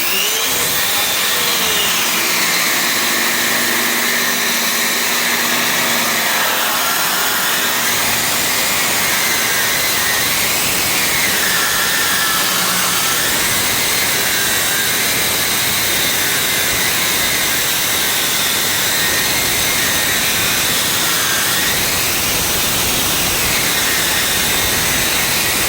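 A circular saw fitted with a metal-cutting blade slices through metal, giving a loud, sustained high-pitched whine and grinding screech whose pitch dips and rises as the cut loads the blade, steady throughout with no talk.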